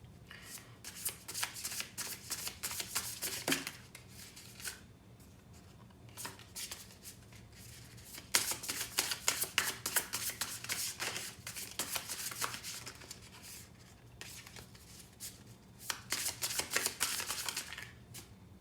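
Tarot cards are shuffled in repeated papery riffling bursts, each a few seconds long with short pauses between, close and fairly quiet with no talking.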